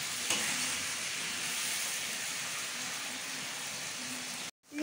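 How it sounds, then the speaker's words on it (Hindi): Onion with garlic and ginger frying in a pan for achari chicken karahi, a steady, even sizzle that stays close and constant before cutting off abruptly near the end. "एक बड़ा प्याज लिया था वो भी साथ ही फ्राई करूँगी। इसको पिंक होने तक फ्राई करना है"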